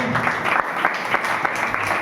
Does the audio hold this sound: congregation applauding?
yes